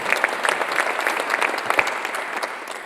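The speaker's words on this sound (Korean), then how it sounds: "박수로 하나 더" A church congregation at a Sunday worship service claps together, a sustained, even round of applause filling the sanctuary throughout.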